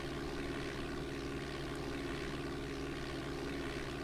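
A Cessna propeller engine in Flight Simulator 4 hums with a steady, even drone, alone and unbroken throughout.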